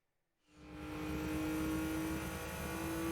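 A Nissan Skyline GT-R with four-wheel drive and 276 brake horsepower in Gran Turismo 2, its engine rising from silence into a steady, droning hum with a sustained tonal whine.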